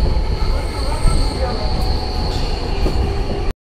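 Purulia–Howrah train running along a curved line near Beliatore station, a loud, continuous rumble of wagons with high wheel squeal, close by, cutting off abruptly at the end.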